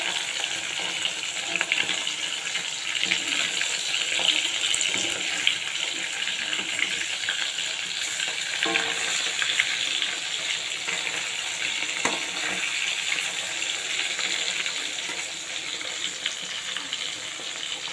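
Fish frying in a pan, a steady loud hiss and sizzle of hot oil throughout, close and continuous with faint scraping.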